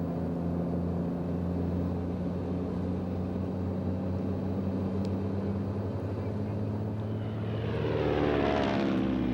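Propeller airplane flying over frozen Siberian tundra, a steady loud engine drone throughout with a rising broadband whoosh near the end.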